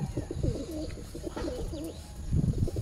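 Pigeons in a loft give soft, low, repeated coos, fairly close, in a gentle rolling rhythm over quiet background noise.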